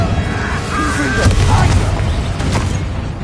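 A Confringo spell blast from Hogwarts Legacy erupts as a loud, close booming burst, with explosive cracks and rumbling scattered through a continuous busy battle mix.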